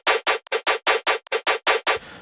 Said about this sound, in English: these eighth note basses are being post-processed pretty heavily so that we can get them big